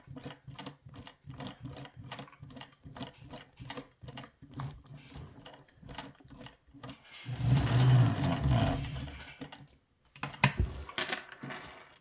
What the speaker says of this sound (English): Once we finish sewing the elastic encasing